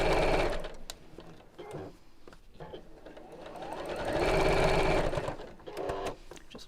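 Home sewing machine without a walking foot stitching close to the edge of fabric layers with lining, a steady whirring motor run that pauses briefly and restarts, fairly loud and close.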